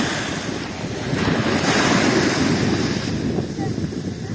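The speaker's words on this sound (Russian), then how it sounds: "Очень такая аккуратная, нежная волна сегодня." Soft ocean waves washing steadily ashore, a continuous broad hiss of surf swelling gently, with light wind in the background.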